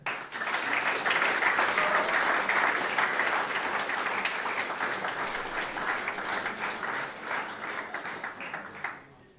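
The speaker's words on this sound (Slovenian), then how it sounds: "In še 37-tič boste zaploskali Nini Trstenjak." Sustained applause from an audience at a primary school awards ceremony, loud and dense for about nine seconds before tapering off at the end.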